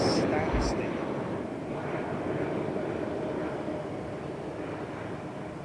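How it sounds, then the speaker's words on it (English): FedEx MD11 cargo jet passing over a house near London Heathrow, a broad, steady roar that slowly fades as it moves away, with a brief light sound near the start. "FedEx MD11 just gone over my place"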